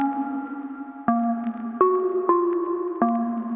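A dry synth pluck melody of a few sustained notes with no insert effects, each note starting with a sharp attack and stepping to a new pitch, clean and steady, no voices.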